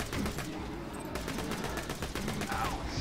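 A Vladoff pistol firing in Borderlands 2, a steady rapid string of shots over busy game sound, with a voice talking over the shooting.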